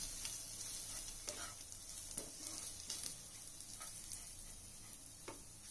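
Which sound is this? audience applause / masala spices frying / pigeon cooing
masala spices frying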